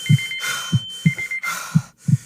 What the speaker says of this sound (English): You turn off the alarm, the ringing goes away.